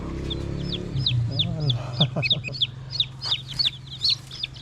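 Newly hatched fighting-rooster chicks peep in high, rapid chirps near the mic, and a few low clucks and a brief spoken word sound underneath.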